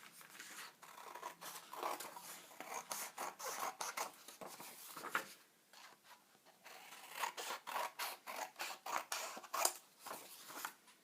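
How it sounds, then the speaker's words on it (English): Scissors cutting paper along dashed lines, a close run of dry snipping and rasping strokes in uneven bursts, with brief pauses between cuts. "First thing first is to cut out along those dashed lines."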